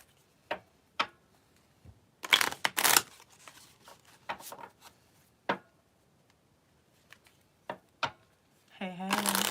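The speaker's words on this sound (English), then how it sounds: "I'm going to shuffle up some decks while y'all find me." Decks of playing cards shuffled in a series of short, crisp riffling bursts, fairly close and moderately loud, with quiet gaps between them and a brief low hum near the end.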